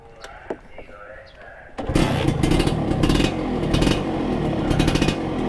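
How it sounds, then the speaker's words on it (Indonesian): A Satria 120R two-stroke motorcycle is started: after a quiet stretch with a few small clicks, the engine catches and settles into a loud, raspy, buzzing idle that stays right at hand and lightly revs. "kita nyalain motornya ya"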